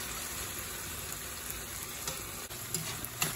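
Beef frying in a pan with mushrooms and onions, a continuous crackling sizzle with occasional stirring clicks and scrapes, close and moderate, with no talk.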